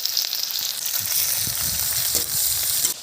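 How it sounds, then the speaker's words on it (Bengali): Dried red chillies, panch phoron and onion hit hot oil for fish curry, producing a loud, close hiss and sizzle with a few soft knocks from stirring; no one speaks. "গরম হয়ে গেছে এখানে দিয়ে দিচ্ছি আমি শুকনো লঙ্কা ফোড়ন আর দিয়ে দিলাম পাঁচ ফোড়ন দিয়ে দিলাম পেঁয়াজ"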